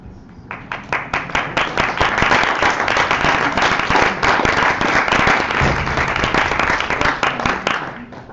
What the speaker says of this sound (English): Let's just clap for them all.